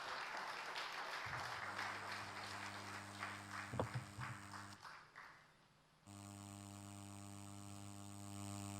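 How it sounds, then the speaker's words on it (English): Audience applause at a wealth management conference opening ceremony fills the first few seconds in a dense, moderate burst, then fades, leaving a steady electronic hum with tonal lines. "A round of applause, please."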